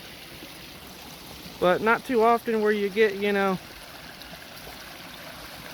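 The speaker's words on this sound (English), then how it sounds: "This little trickling creek slash waterfall" A small trickling creek and waterfall in Florida woods, fed from a spring, makes a steady close wash of running water throughout while someone talks briefly over it in the middle.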